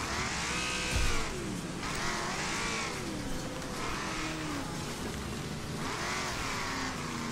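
Race car in the Wreckfest game, its engine revving and rising in pitch repeatedly, with tire squeal and skidding layered over a loud, continuous racing mix.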